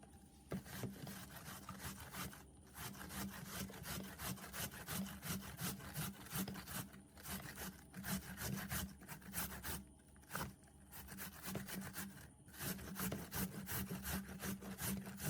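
Watermelon rind being grated on a kitchen grater, a steady run of rasping, scraping strokes with short pauses between passes, close up and alone.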